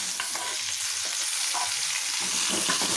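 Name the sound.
tomatoes frying with green chillies in oil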